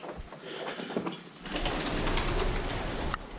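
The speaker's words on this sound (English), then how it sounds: "The birds." Pigeons coo softly inside an abandoned 1920s Victorian school, their low calls repeating under a steady wash of room noise, fairly close and unaccompanied by talk.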